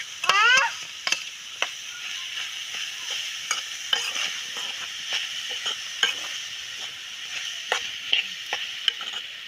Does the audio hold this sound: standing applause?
no